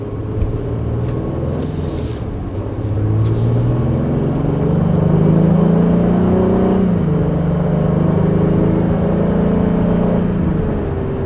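A 2020 Acura MDX engine accelerating in sport mode, a loud, steady close-up drone whose pitch climbs smoothly and then settles into a sustained higher hum, with no talking.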